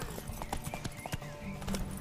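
Galloping hooves clatter in quick, irregular clip-clops during a horse race in the video game The Witcher 3: Wild Hunt, loud and close over a low ambient bed, with no talking.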